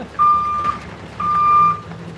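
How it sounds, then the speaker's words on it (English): A truck's backup beeper sounds loud and close, two long steady tones with a pause between and the start of a third, over a low background rumble. "that's a very loud backup horn"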